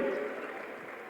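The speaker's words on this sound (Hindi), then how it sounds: "जोरदार ताली बजाएं अपने भाई बहनों के लिए" Audience applause at a public event in Gwalior, a short burst of crowd clapping that stays steady and slightly distant for about a second.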